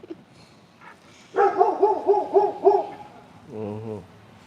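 A dog barks in a quick run of five or six close, sharp barks, with a single softer, drawn-out yelp or howl-like note after them and quiet room noise around.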